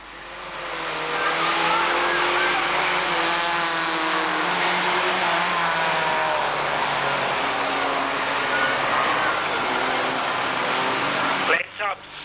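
Vans race around a track at a 1991 van meeting, their engines roaring steadily with screeching tyres as they corner, loud and continuous, with a commentator's voice running over much of it.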